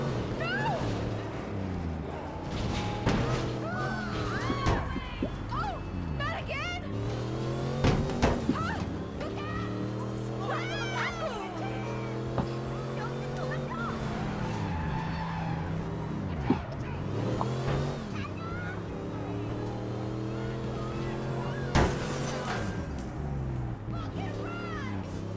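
A car engine drones steadily with shifting tone as the vehicle pulls away in a video game, running throughout under a talking voice and scattered game effects.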